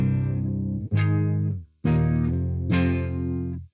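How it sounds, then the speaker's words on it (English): A Jackson electric guitar played through a clean amp tone, three sustained strummed chords ringing out one after another, close and fairly loud with no talking. "this is what it sounds like, clean."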